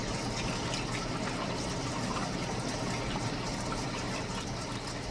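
Pumped water pouring from a discharge on a mountainside and dripping down into a creek, a steady broadband wash of falling water that stays constant throughout, with no voices.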